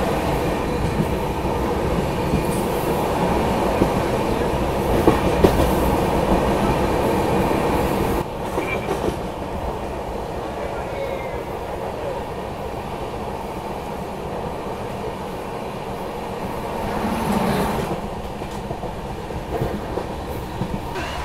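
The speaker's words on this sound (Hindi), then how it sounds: "अच्छा, गोमती एक्सप्रेस को ओवरटेक कर रहे हैं यहाँ पे हम।" The Ranchi Rajdhani Express rolls along while overtaking the Gomti Express, heard from inside as a loud, steady rumble with clickety-clack and faint wheel squeal, briefly quieting and then swelling again as the other train passes alongside.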